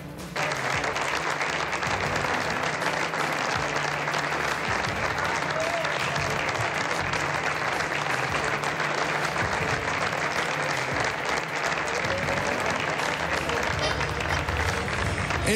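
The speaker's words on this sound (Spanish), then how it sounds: "El aplauso inmenso." Immense, sustained applause from a large crowd at a tribute to Gabriel García Márquez, dense steady clapping filling the whole stretch, loud and continuous.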